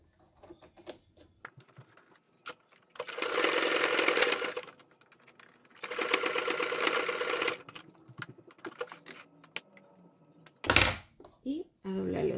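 A sewing machine zigzag-stitches elastic onto a cloth face mask in two steady bursts of a couple of seconds each, close and fairly loud, with quiet handling noises between them and brief speech near the end.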